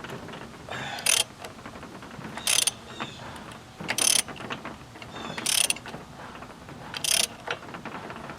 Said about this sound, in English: Try to get some lube down in there and screwing it back in and screwing it back out.